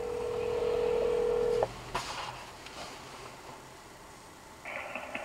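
An outgoing phone call rings through the hands-free system of a 2009 Ford Fusion hybrid. A steady tone holds for about a second and a half, cuts off with a click, then the line goes quiet before a soft burst of noise. No one speaks.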